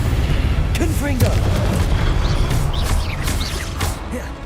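Confringo fire spell blasts in the Hogwarts Legacy video game, heard as booming explosive impacts under continuous game music and effects, with whooshing bursts across the whole stretch.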